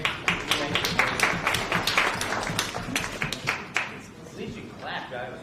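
An audience at a town informational meeting in Cavendish claps for several seconds, a dense patter of hands that thins out toward the end, with voices talking over it.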